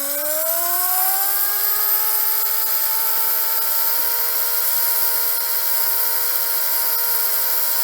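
A Villenium electric motor spins up from low speed to its top speed, a whine climbing in pitch over the first few seconds and then holding steady as a loud, smooth high-pitched drone with no talking.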